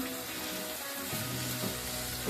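Tomato, green chilies, ginger and coriander leaves frying in a pan over a raised gas flame, a soft continuous sizzle with a few stirring scrapes, close and fairly quiet.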